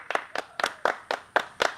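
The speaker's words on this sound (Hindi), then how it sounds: "राजा तनी ताली बजाता थो" Hands clap eight times in a steady, even rhythm, each clap sharp and close, with quiet gaps between them and no talking.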